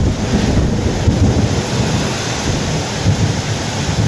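Heavy rain and gusting wind at Vagamon in Kerala, a steady loud broadband roar with wind buffeting the microphone, continuous and close throughout with no voices.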